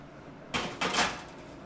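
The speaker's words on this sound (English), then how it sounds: "Take the pan off." A baking pan is lifted off an upside-down cake, giving two short scraping, rustling bursts close by, the second longer and louder, against a quiet room.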